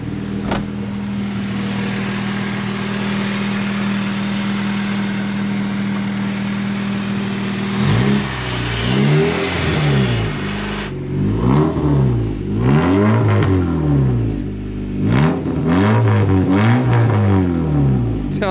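A 1999 Honda Civic engine with a short exhaust idles steadily, then revs repeatedly in rising and falling bursts, loud and close, with no talking.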